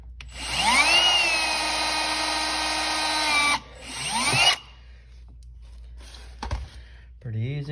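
Cordless drill boring a hole with a small bit for a 2018-2020 Toyota Camry splash guard, a loud rising whine held steady for several seconds, then a second shorter burst, followed by faint clicks and handling noises.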